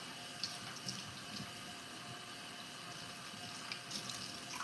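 Tap water runs steadily into a kitchen sink during dishwashing, a soft, even splashing rush with occasional brief clinks and sharper splashes, fairly quiet and close, with no talking.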